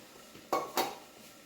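A lid set onto a cooking pan, two quick close metallic clanks a fraction of a second apart, then quiet.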